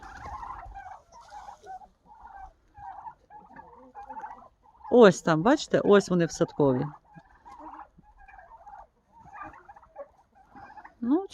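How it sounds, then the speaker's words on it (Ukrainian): In a poultry yard, loud bursts of gobbling from turkeys in a shed and clucking from laying hens rise in the middle, with quieter bird calls and a person talking around them. "От Індики в хлівчику, отут кури, кури несучки"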